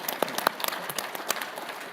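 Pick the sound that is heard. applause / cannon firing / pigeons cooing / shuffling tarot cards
applause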